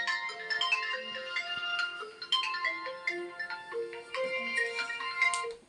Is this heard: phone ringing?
yes